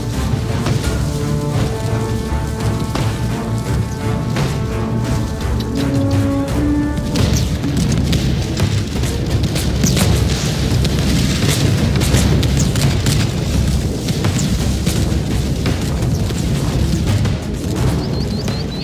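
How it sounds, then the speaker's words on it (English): Spanish tercio arquebusiers fire volleys at an approaching enemy in an Italian Wars battle game, heard as continuous dense booming and cracking shots layered over music, steady and loud throughout. "Here's one of the Spanish tertius, very glorious looking, firing at the approaching enemy."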